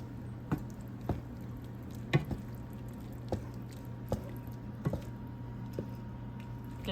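Ground beef with Rotel tomatoes and a spoonful of xanthan gum being stirred in a pan, with soft wet squishes and scrapes recurring about once a second over a steady low hum, near and moderately quiet.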